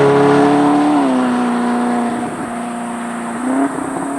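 A Novitec-tuned Ferrari supercar's exhaust booms loud and close, holding a steady, rich drone that drops slightly in pitch, then settles and rises again near the end, with no talking.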